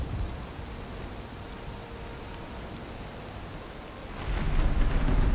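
Steady rain and rolling thunder in the survival game Valheim make a dense, even hiss that swells into a louder, deeper rumble near the end, with no voices.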